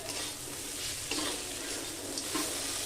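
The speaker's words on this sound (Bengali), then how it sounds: "ভালো করে নাড়বো।" Spicy brinjal bharta frying in a pan while being stirred, a steady close sizzle throughout with a couple of louder scraping strokes, no voices.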